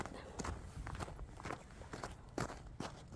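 Footsteps of a lone person walking on a slippery path outdoors at night, a steady series of soft, close steps with scuffing, heard alone at low volume.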